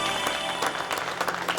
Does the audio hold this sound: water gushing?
no